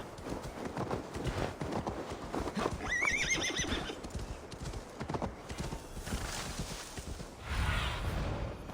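A horse in Assassin's Creed Valhalla, hooves clip-clopping steadily through mountain terrain with a sharp whinny partway through, rustling game ambience underneath.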